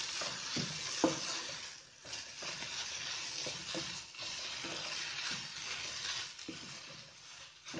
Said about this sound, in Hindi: अब इन सारी चीज़ों को अच्छी तरह मिक्स कर लेना है।